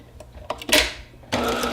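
A sewing machine stitches a hot pad seam, with a few short needle taps followed by bursts of fast mechanical whirring, close and fairly loud.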